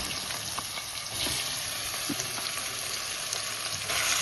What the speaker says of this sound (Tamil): இதனால சிக்கனை போடப்போம்.